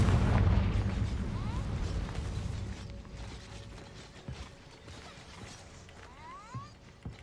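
A Confringo blasting spell goes off in Hogwarts Legacy, a loud booming burst at the start followed by mechanical clicks and softer game effects fading out.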